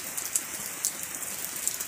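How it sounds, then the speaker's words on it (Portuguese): Light, fine rain falling steadily in a soft continuous hiss, with a few sharp drips standing out now and then, no voices. "Uma chuvinha boa. Chuvinha fininha."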